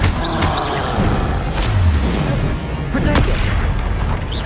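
Incendio and other spell blasts in a Harry Potter video game, a dense run of loud booming bursts and whooshes packed together, with a voice calling out over the effects.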